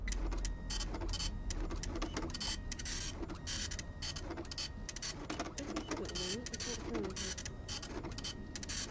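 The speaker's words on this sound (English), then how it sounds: "No, because it's stupid printer" A printer runs nearby with busy mechanical whirring and rapid rhythmic clicking and stuttering, continuous throughout, with a voice talking faintly at times.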